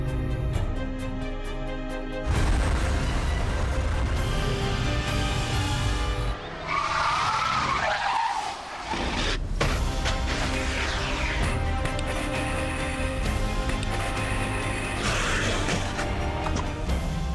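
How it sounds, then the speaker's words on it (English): Toyota Yaris without stability control swerving hard at over 70 mph on a test track, with loud engine roar and screeching tyres skidding as it tips onto two wheels, ending in harsh scraping and crashing. "the car skidded right, then flicked left, tipping onto 2 wheels"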